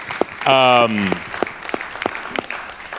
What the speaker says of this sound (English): let's give everyone here a round of applause for that